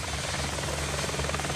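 A military helicopter flies from a French Navy BPC amphibious helicopter carrier, its rotor giving a steady, loud, dense chopping drone that fills the whole stretch without pause.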